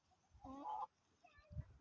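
Chickens and roosters on a farm cluck in short, quiet bursts, one rising call followed by a softer clucking phrase and a dull thump.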